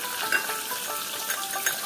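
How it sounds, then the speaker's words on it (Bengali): Cut potatoes fry in hot oil with a little turmeric and salt, a dense, steady sizzling hiss with faint crackles, close and even throughout, with no voices. "এবারে আমি আলুগুলোকেও ভেজে নেব।"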